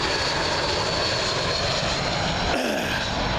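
An airliner arriving on runway 27L at Heathrow Airport gives a loud, steady engine roar that fills the whole span, close by and continuous, with no talk.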